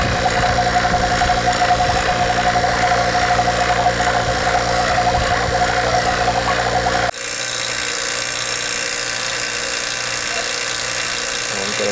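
A vacuum pump evacuating an air conditioning system runs with a steady droning hum, then abruptly drops to a quieter, different tone partway through; no talking.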